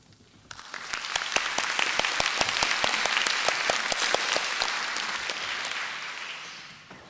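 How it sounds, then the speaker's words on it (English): A conference audience at a library congress gives a welcoming round of applause, a dense, loud burst of clapping that swells quickly, holds steady, then tapers off near the end. "welcoming applause."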